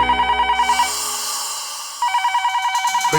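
A telephone rings in bursts of rapid trilling tones, loud and close, stopping briefly after a second of ringing and then starting again.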